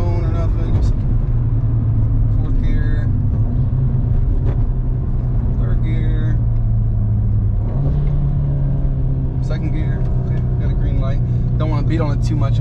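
Volkswagen Golf R Mk8 with a 4-inch DBV2 downpipe, cruising near 60 mph after a downshift, giving a steady deep exhaust drone and engine rumble that swells slightly midway, heard up close from inside the cabin under continuous talking.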